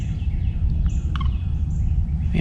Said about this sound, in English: It sounded like a gobbler at first.